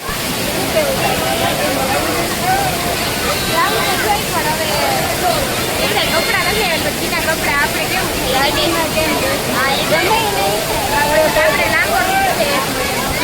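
Waterfall at Khad Khambhaliya pouring and splashing steadily, a dense continuous rush close by, with people talking and calling out over it throughout.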